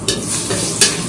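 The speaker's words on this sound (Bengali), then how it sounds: "বন্ধুরা কড়াইতে কিন্তু তেল দিয়ে দিচ্ছি, আর কড়াই কিন্তু গরম হয়ে গেছে। এবার কয়েকটা দিয়ে দেবো তেজপাতা।" Bay leaves dropped into hot oil in a heated wok, giving a steady close sizzle and crackle with two sharper bursts of spitting near the start and later on, no voices over it.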